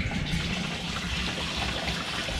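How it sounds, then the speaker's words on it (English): Water poured in steadily for a couple of seconds, a continuous gushing fill with no voices. "we need to put some water in"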